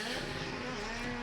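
ARX2 rallycross race cars roaring during qualifying at the 2019 ARX of Austin, heard as a steady, fairly distant engine drone with a sustained tonal hum.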